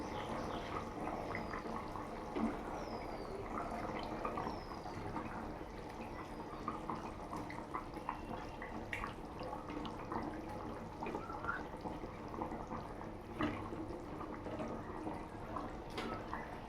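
Curry gravy for jackfruit koftas simmering in a pan on the stove, a steady close bubbling and dripping wash with small liquid pops throughout, no talking.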